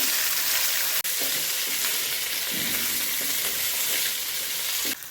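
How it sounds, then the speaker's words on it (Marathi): Boiled potatoes tossed into a hot pan with cumin and ground chilli, giving a loud steady sizzle with scraping stirs and a sharp clack of the spoon. "आता आपण हे उकडलेले बटाटे सगळे यामध्ये आधी घालून घेऊ"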